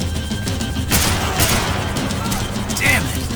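Gunfire in a Max Payne 3 chase scene: a few sharp bursts of shots and impacts over a rumbling engine-like background, loud and close, mixed with shouting voices.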